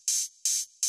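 Three open hi-hat hits in an even pattern, each a bright, sizzling wash sustained briefly before cutting off, with short silent gaps between.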